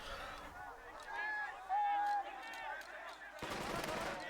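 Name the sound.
gunfire in Burden of Command video game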